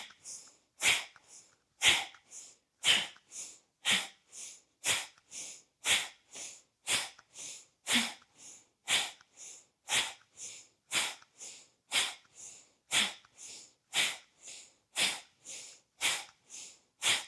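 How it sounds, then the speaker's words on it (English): Forceful nasal exhalations from a yoga breathing practice, about twenty-five sharp puffs in a steady rapid rhythm, close and clear with no talking. "we're breathing in naturally and exhaling forcefully"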